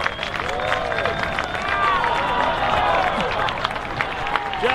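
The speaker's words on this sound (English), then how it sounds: "Rise fans, please give a round of applause to Bill Pulsifer." A crowd at an AFP softball game between the Oklahoma City Spark and New York Rise applauds for Bill Pulsifer, busy clapping and cheering mixed with stadium hubbub and some background chatter.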